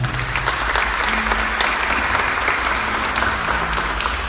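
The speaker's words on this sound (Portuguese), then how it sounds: "Dá uma salva de palmas, por favor." A congregation applauding at a Portuguese-language church service, dense sustained clapping from a crowd, loud and continuous for the whole stretch.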